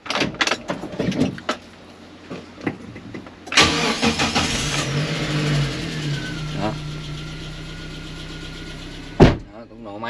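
A Kenbo light truck's engine cranks and fires, with a sharp rise as it catches, then settles into a steady idle. Clicks and a door sound come before it, and a person talks briefly.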